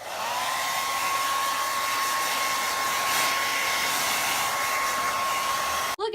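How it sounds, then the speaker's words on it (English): A hair dryer blows steadily to dry off wet shoes, making a loud, constant whirring hum that runs alone until it cuts off abruptly near the end. "thanks to the new hair dryer, you can dry off your shoes"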